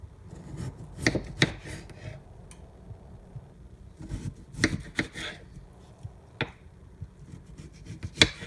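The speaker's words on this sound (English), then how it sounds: "So let's cut up our potatoes." Potatoes being cut up with a knife for a crockpot dish of cabbage, potatoes and smoked sausage: sharp, close knife chops and scraping slices that come in scattered bursts, with quiet pauses between them.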